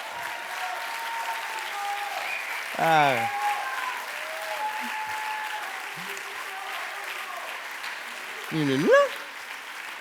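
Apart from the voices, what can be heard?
audience applause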